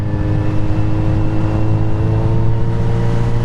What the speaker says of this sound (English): This 4-cylinder engine is lovely.